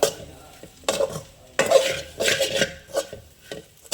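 A spoon stirs ground coriander, cumin and dried red chilli powder in a pan for brinjal curry, making a close series of irregular scrapes and light metallic clinks over a faint sizzle.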